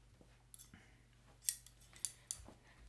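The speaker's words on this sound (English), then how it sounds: "So we're ready to cut the rest of your hair now." Quiet, close scissor snips cutting hair, a handful of crisp metallic cuts spaced irregularly against near silence.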